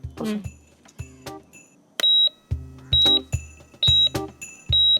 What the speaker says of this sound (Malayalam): ഈ നെഗറ്റീവ് എനർജി അടുത്തുണ്ടെങ്കിൽ ഇത് ബീപ് ബീപ് ബീപ് ഒന്ന് അങ്ങ് സൗണ്ട് കേൾക്കും